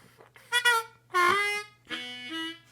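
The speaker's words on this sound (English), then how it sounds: "3 draw, bent and released." Harmonica 3 draw note bent down and released, sliding in pitch, after a few short soft notes; near and clear, with a separate sustained note at the end and no talking.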